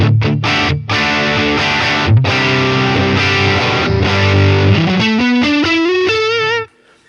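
Electric guitar played through a high-drive Line 6 Helix amp model, thick distorted chords ringing steadily, then a rising run of single notes climbing upward before cutting off abruptly, loud and alone.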